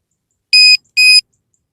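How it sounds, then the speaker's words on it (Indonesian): A model airplane's alarm buzzer sounds two short, shrill electronic beeps in quick succession, loud and close against silence. "Ini pakai alarm saya dulu ya Om, karena jenengan kemarin kan nggak ngirimin alarm buzzer."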